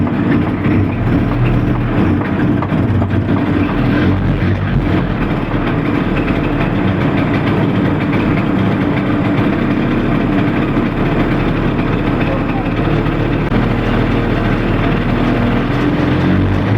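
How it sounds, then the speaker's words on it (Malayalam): A vintage Indian Sipani Badal fibre-bodied three-wheeled small car runs close by with a steady, loud, rough idle. Its engine drone continues without a break for the whole stretch. "അതിൻ്റെ എൻജിൻ സൗണ്ട് കേട്ടാൽ പഴയ ഓർമ്മയുള്ള ആൾക്കാർക്കറിയാം"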